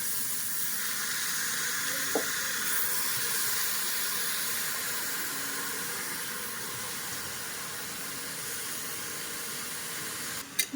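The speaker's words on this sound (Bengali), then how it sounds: "দিয়ে দিচ্ছি ভিজানো চালগুলো।" Soaked rice dropped into a hot cooking pot gives a steady, close sizzling hiss that runs throughout, with a faint clink near the start and a brief knock at the very end.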